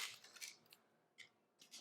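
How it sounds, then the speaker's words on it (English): Scissors snip into a plastic milk bottle with a few faint, crisp crunching cuts spaced apart, quiet and close. "With your scissors, just cut this carefully"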